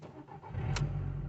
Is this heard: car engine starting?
yes